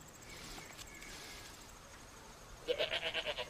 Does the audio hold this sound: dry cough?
no